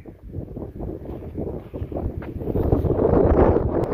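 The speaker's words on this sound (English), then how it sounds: "Man, it's so windy today." Strong wind roars and buffets the microphone, building louder toward the end, with no talking.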